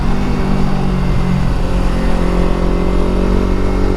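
A motorcycle engine drones steadily and loudly while the rider tours along the Pantura route toward Guci in Central Java, with a constant low hum and rumble and no talk.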